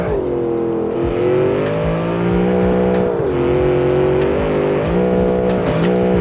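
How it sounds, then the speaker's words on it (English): Simulated car engine in the Automation game revving hard during wheel spin, a loud steady drone with rising and falling pitch, continuous and close throughout. "The wheel spin is awesome."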